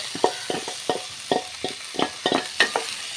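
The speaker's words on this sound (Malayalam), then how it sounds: "നല്ലോണം ഇളക്കി കൊടുക്കട്ടോ" Ivy gourd stir-fry (kovakka thoran) stirred in a pan with turmeric, a steady run of spatula scrapes and clacks about every quarter second over a soft, continuous sizzle.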